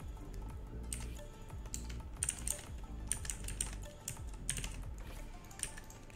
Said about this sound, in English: now we will type our text.